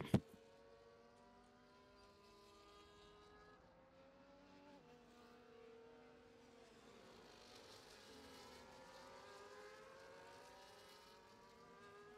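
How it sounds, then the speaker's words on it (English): Several race car engines drone around the Shanghai circuit under safety car conditions in an online sim racing league, their overlapping tones rising and falling as they shift. The sound is faint and steady, with no talk over it. "we can enjoy the engine noises as the drivers head around the Shanghai circuit"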